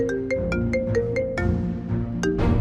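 An incoming call on a mobile phone sets off a ringtone: a bright, repeating electronic melody of short tonal pulses, loud and close, with no voices over it.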